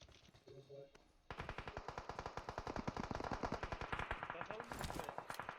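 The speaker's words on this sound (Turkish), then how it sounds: "Buradan mermi geliyor." Automatic gunfire rattles in the mobile battle-royale game PUBG Mobile: loud, rapid, evenly spaced shots run in long continuous bursts after a brief quieter opening.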